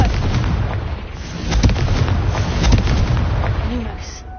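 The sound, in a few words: Confringo blasting spell explosion, from a Harry Potter video game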